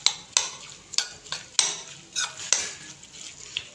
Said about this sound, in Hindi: इसके ऊपर 2 खाने के चम्मच लेमन जूस में हमने अच्छे से मिक्स कर लेना है